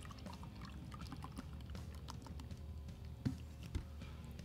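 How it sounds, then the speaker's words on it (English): All Night Light IPA beer pours from a can into a glass, a faint, steady fizzing and gurgling stream running the whole time, with a couple of soft clinks near the end. "I'm pouring the beer."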